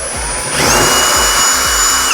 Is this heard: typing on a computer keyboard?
no